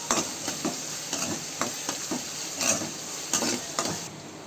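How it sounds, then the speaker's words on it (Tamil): Onions and curry leaves sauté in a pan for vada curry, with a steady close sizzle broken by repeated scraping stirs of a spoon against the metal, about one stroke every half second. "வெங்காயமும் கருவேப்பிலையும் போட்டு நல்லா வதக்கணும்."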